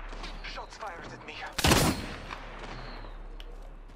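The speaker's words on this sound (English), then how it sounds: "Shots fired at me." Gunfire in Apex Legends, a loud close burst of shots in the middle of a short stretch with fainter scattered game sounds around it.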